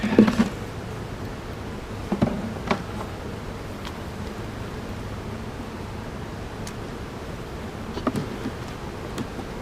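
Steady buzzing of honeybees at a five-frame hive, a dense continuous hum with a few louder passes close by.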